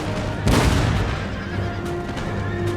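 A horse whinnies once amid gunfire and booming battle noise in the Empire Total War game, with cavalry caught in the fighting.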